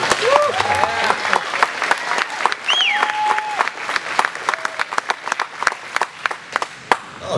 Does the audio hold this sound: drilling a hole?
no